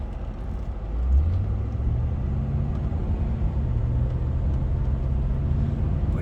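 Jaguar XK8 engine driven through slow traffic, a steady low rumble from inside the car with a rising pitch sweep that eases off as gears change, constant and fairly loud with no talking.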